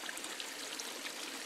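Water trickles steadily into a well-aerated pond used for growing wild African rice, a continuous close, even stream-like flow with no voices over it.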